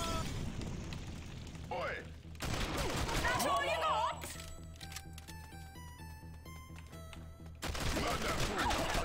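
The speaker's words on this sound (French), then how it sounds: "elle vise pas droit quand elle fait plusieurs tirs à la suite" Repeated gunfire in the video game Not a Hero, bursts of shots and booms mixed with game music and effects, with a person talking over parts of it.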